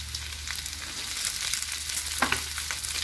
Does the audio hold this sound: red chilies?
yes